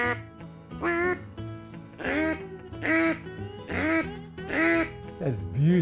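A Sure Shot duck call imitates a lonesome hen mallard in a series of long, drawn-out nasal quacks, four or five loud, evenly spaced calls close to the mic.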